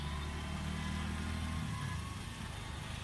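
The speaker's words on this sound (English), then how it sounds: "this is the auto driver driving the three-wheeler" An Indian auto rickshaw's small three-wheeler engine drones steadily from close by while driving, a low throbbing hum that eases slightly partway through, with road and wind noise around it.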